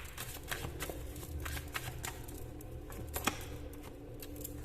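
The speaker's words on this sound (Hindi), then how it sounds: "कुछ कार्ड्स और निकालती हूँ फिर बताती हूँ।" Tarot cards being shuffled and drawn by hand: a steady, quiet riffle of card edges with scattered soft snaps and flicks, close up and with no talking.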